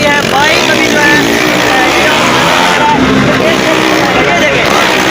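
Motorcycle engine roaring continuously as a bike rides the wall of a circus death well, loud and sustained with crowd babble and a voice underneath.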